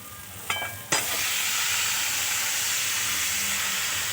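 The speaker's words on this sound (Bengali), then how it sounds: "এখন আমি ভাজা আলু আর ফুলকপিগুলো দিয়ে দেব" Fried potatoes and cauliflower drop into hot, oily masala in a cauliflower curry, setting off two sharp splashes followed by a loud, steady, hissing sizzle that fills the rest of the clip without any talk.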